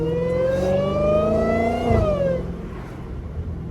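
A Dodge Hellcat's engine revs loudly and close, one sustained climb in pitch that drops off and settles into a rougher idle rumble.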